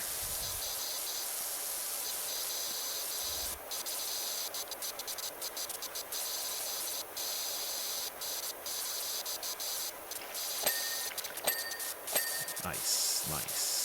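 Steady pressure washer spray in the PowerWash Simulator 2 video game, a continuous broad hiss that runs the whole time at a fairly even level, with a few short clicks and bumps near the end.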